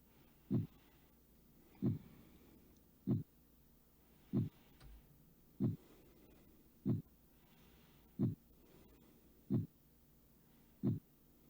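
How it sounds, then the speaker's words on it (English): A steady, muffled heartbeat thumps roughly every 1.3 seconds in a quiet video game, each soft low pulse standing alone over a faint background hum. "Get used to that heartbeat sound."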